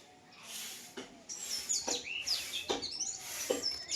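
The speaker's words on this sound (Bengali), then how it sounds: "পাখির আওয়াজগুলো কি সুন্দর লাগছে" Small birds chirp and twitter in quick bright phrases, repeated several times at moderate distance against a quiet outdoor background.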